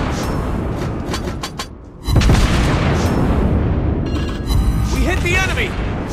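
Heavy naval gunfire and an enemy ship blowing up in World of Warships Blitz while playing a Tier 6 Indian Navy cruiser Mysore, a loud booming blast and rumbling explosion, accompanied by rapid earlier shots and a voice speaking in-game.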